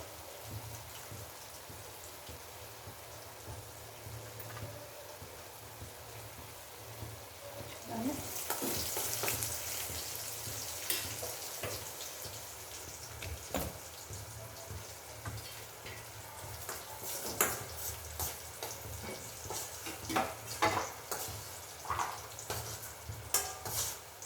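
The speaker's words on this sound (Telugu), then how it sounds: "అందులో డ్రై ఫ్రూట్స్ వేసుకుంటున్నానండి" Dry fruits fry in ghee in a small pan for beetroot halwa, giving a faint, steady crackling sizzle that grows busier and more popping midway, with light utensil taps and no speech.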